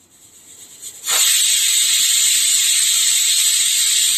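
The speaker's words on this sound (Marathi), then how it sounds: "कुकरच्या मस्त आपल्याला दोन शिट्या ह्या काढून घ्यायच्या आहे" A pressure cooker whistle, cooking an onion curry with tamarind and jaggery, bursts on after a second of quiet and keeps hissing loudly and steadily to the end.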